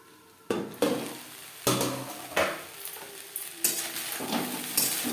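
Drumstick flowers and brinjal are stir-fried in a pan on a high flame. About six sharp scraping stirs cut through a soft background sizzle, close and fairly quiet.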